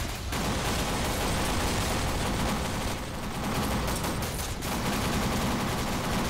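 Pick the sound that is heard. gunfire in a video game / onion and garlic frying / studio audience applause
gunfire in a video game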